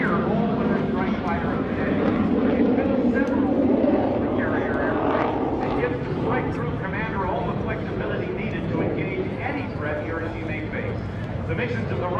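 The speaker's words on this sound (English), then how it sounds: "The FA-18 Super Hornet is the premier all-weather strike fighter of the day." An F/A-18F Super Hornet performing at the 2018 NAS Oceana airshow, a loud, continuous jet engine roar held steady throughout, with an announcer's voice talking over it.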